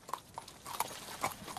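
Hooves of a platoon of light cavalry horses led by two riders, heard as a few scattered clip-clop strikes over about a second and a half, moderately close, with no talk.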